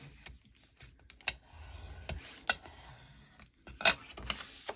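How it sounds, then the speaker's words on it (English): Scored 12x12 paper is folded by hand with soft rustles and several crisp creasing taps and scrapes, close and fairly quiet. "I'm going to go ahead and fold that."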